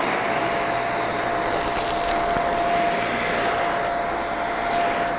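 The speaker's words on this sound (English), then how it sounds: "The Boreas handheld vacuum will work on all kinds of things that are debris and messes in your household" A Boreas handheld vacuum runs on a mattress, picking up tortilla chips as a steady, loud motor whine and airy rush with faint rattling debris and no speech.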